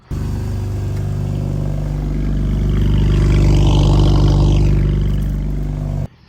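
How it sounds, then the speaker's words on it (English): A BMW E46 with a muffler delete and a slight exhaust leak revs up, its loud, raspy six-cylinder drone swelling steadily and holding for several seconds before cutting off abruptly. "The previous owner did do a muffler delete and filler pipe, and I think it sounds pretty decent, although it does have a slight exhaust leak right now."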